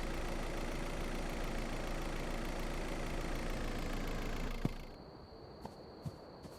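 A car engine idles in the video game Schedule 1 after a drive back to the ranch, a steady low hum that holds evenly, then cuts off abruptly, leaving near silence with a few faint clicks.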